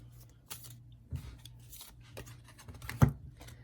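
A tarot card gets drawn from the deck with soft papery slides and rubs at close range, ending in a sharper snap near the end, and the room is otherwise quiet.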